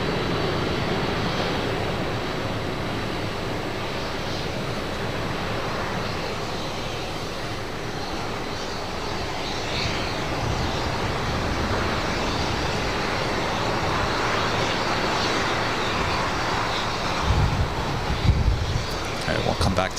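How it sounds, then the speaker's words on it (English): An Emirates Airbus A380 arriving at LAX, a broad, steady jet rumble heard from a distance over wind and traffic, with a voice talking over it much of the time. "The Emirates A380 Super next up for arrival on the north side."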